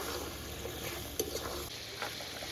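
Pre-fried potatoes being sautéed with spices in a pan of chicken curry, giving a faint, steady sizzle with a few soft stirring scrapes and clinks, close and alone.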